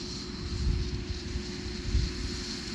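A Fastrac tractor travelling at about 20 mph on a farm road gives a low, heavy engine rumble that swells and fades as it goes past, under a steady background hum.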